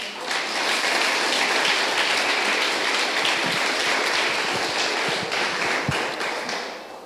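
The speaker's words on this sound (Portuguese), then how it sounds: "dê uma linda salva de palmas ao Senhor" Steady congregation applause fills a church service, a dense continuous patter of many hands clapping together for several seconds, loud and close, with no talk over it.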